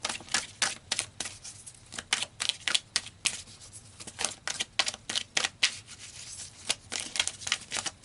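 Tarot cards being shuffled and pulled: a quick, irregular series of crisp flicks and snaps, close and moderately loud, with brief rustling between them.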